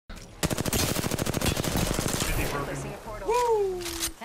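Eva 8 shotgun fire in Apex Legends, a rapid loud burst of repeated shots for about two seconds, followed by fading echoes and game effects, with a player's voice over the action.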